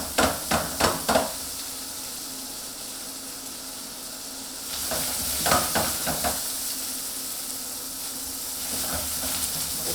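Pieces of beef for beef bourguignon caramelising on the hob, sizzling loudly and steadily in a hot pan, with a few sharp scrapes and stirs of a utensil against it and no voices.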